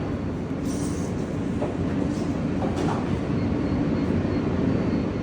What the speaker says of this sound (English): This is a Manhattan bound B local train.